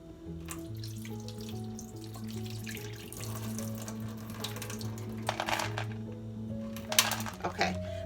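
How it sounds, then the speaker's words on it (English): Rinse water poured off pinto beans into a kitchen sink, a steady splashing pour with brief louder gushes near the end, heard under background music. "now I'm going to pour the water off that."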